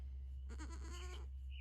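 A single goat bleat lasting under a second, fairly close, heard in a new farm building over a steady low hum.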